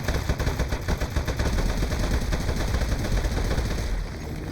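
Rapid automatic gunfire rattles without a break in Aperture Desk Job, a loud, dense stream of shots layered over a steady mechanical hum.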